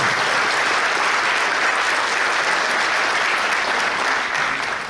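An audience at a firefighter academy recruit and emergency communications graduation ceremony gives sustained, dense applause that stays loud and even throughout before tapering at the very end.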